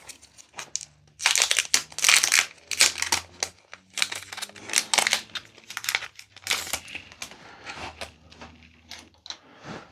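Packaging from a Kickstarter board game box, Tainted Grail Kings of Ruin, crinkles and rustles loudly up close in repeated bursts as it is opened, with no talking.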